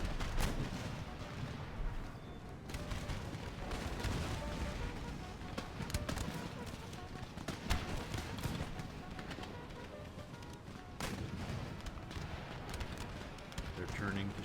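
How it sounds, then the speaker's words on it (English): Mortar artillery fire in the video game Empire Total War, aimed at line infantry: repeated sharp booms and cracks scattered through a busy battle din, with someone talking over them. "We're trying to do the most hurt as we can with our mortars on the line infantry"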